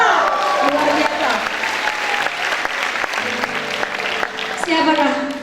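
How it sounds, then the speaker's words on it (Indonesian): Youth Christmas revival crowd claps steadily throughout, a dense sustained applause with scattered cheers, loud and near, while a voice and musical tones sound faintly underneath. "Tepuk tangan dulu suku Batak."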